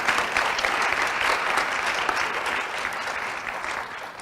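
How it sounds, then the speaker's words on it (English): Audience applause for Cum Laude Society inductees at a school honors ceremony, a continuous wash of many hands clapping at even strength that tapers slightly toward the end. "Let's have another round of applause for our Cum Laude Society inductees"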